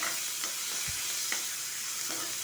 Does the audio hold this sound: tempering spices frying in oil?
yes